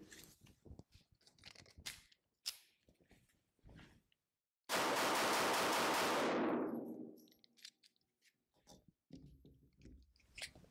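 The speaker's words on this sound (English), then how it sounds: "Time to shoot our three competitors. Let's start off with the SIG 238." A SIG P238 .380 ACP pistol fires a string of close, sharp shots at a range, a rapid burst of cracks with a long loud roar of echo and ringing in the middle, then quieter scattered reports.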